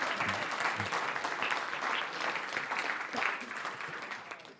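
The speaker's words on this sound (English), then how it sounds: "let's give him another round of applause as he teaches us" A church congregation gives a round of applause during a Sunday morning service, a steady, full wash of clapping from a large crowd that holds for several seconds and eases slightly near the end.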